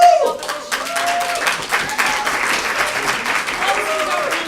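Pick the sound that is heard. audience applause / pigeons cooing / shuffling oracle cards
audience applause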